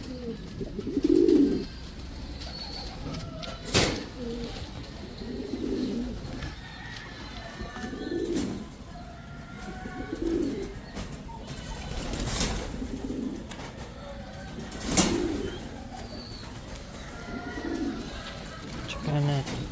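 Homer pigeons from an imported breeder line coo in a series of soft, low, rounded calls repeating every couple of seconds, close by, with occasional sharp knocks and faint background noise.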